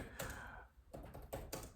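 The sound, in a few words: typing on a computer keyboard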